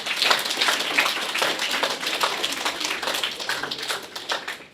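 An audience claps for Dr. Schubert at a talk, a steady spread of hand claps that is fairly loud throughout and tapers slightly toward the end.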